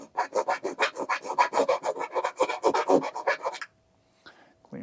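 Light rasping strokes of a chainsaw rat tail file working a part on an FMS P-47 Bonnie 1.5m RC plane, close and steady for about three and a half seconds, then near silence with a faint tap.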